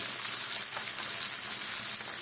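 Puti fish frying in hot oil in a pan for a spicy Bengali oil curry, giving a steady, close hiss of sizzling with no pauses and no talk.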